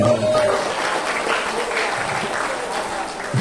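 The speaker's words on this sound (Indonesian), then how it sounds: "Tepuk tangan dulu untuk kita semua" Applause from an audience gathered for a university opening ceremony, a dense, steady wash of many hands clapping that fills the room throughout.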